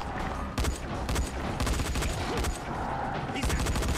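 Rapid bursts of gunfire from a gun in the zombie game Dying Light, repeated volleys cracking loudly over a dense, noisy game soundscape, with a voice talking faintly underneath.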